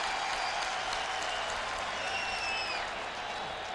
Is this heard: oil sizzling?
no